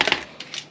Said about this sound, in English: Okay, this one, I used a ratchet, and that's why I grabbed the ratchet.